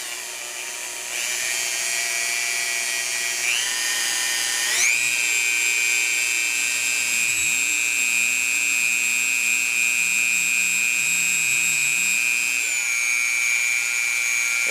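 A Dremel rotary tool polishes a gun receiver with compound, giving a loud steady high-pitched whine that steps up in speed partway through, then varies in tone as the head presses against the metal.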